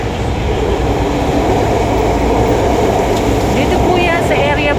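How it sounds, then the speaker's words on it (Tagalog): A light rail (LRT) train rumbles past close by in stormy weather, a loud, steady roar with a metallic rolling hum, while a person talks faintly underneath. "May LRT na ang aga."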